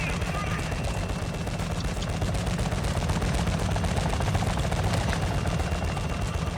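Rapid bursts of automatic gunfire crackle continuously, dense and loud, with a steady rumbling mix typical of a battle in Call of Duty: Modern Warfare II Warzone 2.0 DMZ.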